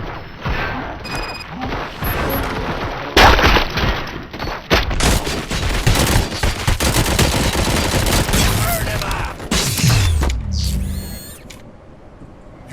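Heavy gunfire in RoboCop: Rogue City, a long chaotic barrage of overlapping shots, crashes and mechanical clatter that swells and ebbs before cutting to quieter scattered sounds near the end.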